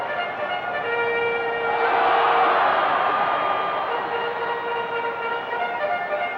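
A referee's whistle ends an NFL 2K3 video game between the Denver Broncos and Kansas City Chiefs: a sustained, moderately loud tone over a steady bed of crowd-like noise, swelling in the middle of the stretch.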